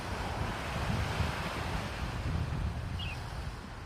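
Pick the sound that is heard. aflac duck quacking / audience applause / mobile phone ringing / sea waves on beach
sea waves on beach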